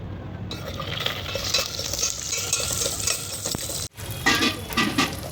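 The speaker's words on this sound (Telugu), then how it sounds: "నెయ్యి వేసుకొని దీనిలో ముందు డ్రై ఫ్రూట్స్ అనేవి ఫ్రై చేసుకుందాం జీడిపప్పులు బాదం పప్పులు" Cashews and almonds frying in ghee in a pan, a continuous bright sizzle with frequent stirring scrapes and light metallic clinks, briefly cut off by a short gap before the sizzling resumes, with no talking.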